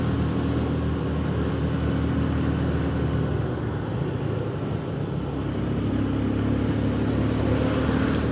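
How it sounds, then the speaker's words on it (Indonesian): A truck climbs a steep uphill road near Wonosobo, its engine droning steadily and straining as it labours upward, heard from close behind with no talking. "Ngeri kalau di belakang truk kayak gini, karena tanjakan-tanjakan sini kan tergolong curam ya."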